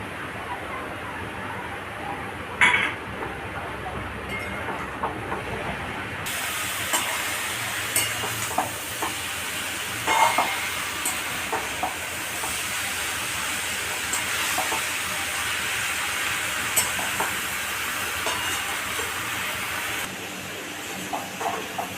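Food being stirred in a pan while pumpkin stem curry cooks, with steady scraping and sizzling throughout and a few sharper clanks of the spoon.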